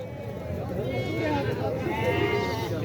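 A goat bleats in wavering cries at a busy livestock market in Talagang, mixed into constant crowd chatter and nearby voices.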